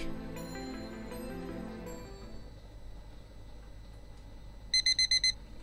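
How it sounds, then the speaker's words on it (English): A video game alarm clock goes off near the end, five quick, bright electronic beeps in a tight burst, following fading musical tones and quiet room hum. "I am forcibly awoken from my slumber by my trusty alarm clock"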